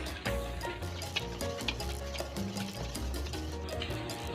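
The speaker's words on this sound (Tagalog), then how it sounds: "hahaluin lang natin to" Cassava flour being stirred into kutsinta batter in a bowl, a steady scraping and swishing that runs continuously with a few sharper knocks against the bowl and low background hum.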